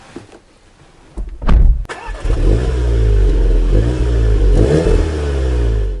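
Volkswagen Golf GTI Clubsport with a 2-litre turbo petrol engine, 265 hp, starting and revving hard up close, a loud rising roar that settles into a steady strong drone.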